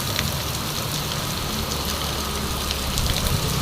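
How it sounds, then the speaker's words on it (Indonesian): Heavy rain pours down in a steady, dense hiss of drops hitting surfaces, close and constant with no pauses and no voices. "hujannya deras banget"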